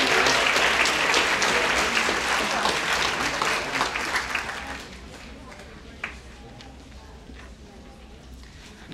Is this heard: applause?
yes